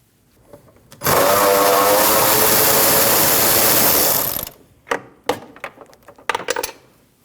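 Ratchet spinning out a 10 mm bolt on a 2013-2019 Ford Escape windshield washer reservoir, a loud, close, continuous rapid clicking for about three seconds, then a few separate metallic clicks and clanks.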